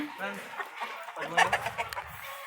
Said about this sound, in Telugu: ఆ కోళ్ళు ఇలా పెంచుతున్నారు చూడండి సరే ఎంత బాగున్నాయో కోడి పుంజులు